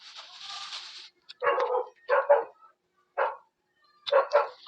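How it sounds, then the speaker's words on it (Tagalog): A dog barks from somewhere below in a home, giving several short bursts and a few paired barks with brief quiet gaps between them, heard clearly on its own with no talking. "Maingit talaga lagi yung aso sa baba pag nag-video ako."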